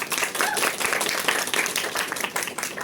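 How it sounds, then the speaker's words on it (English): An audience at a Mount Carmel College installation ceremony gives a keynote a big round of applause, dense clapping that is loud and continuous throughout. "Let's have a big round of applause for"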